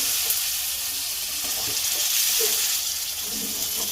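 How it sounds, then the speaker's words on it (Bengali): Vegetable stalks coated in thick batter fry in hot oil in a home kitchen, giving a loud, steady sizzle and hiss that runs unbroken throughout. "তেল গরম হয়ে গেছে ডাটাটা দিয়ে দিচ্ছি"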